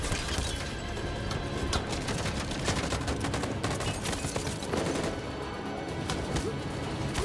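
Rapid gunfire rattles through a firefight in the video game Detroit: Become Human, with dense overlapping shots and sharp bursts sustained at a steady loud level throughout.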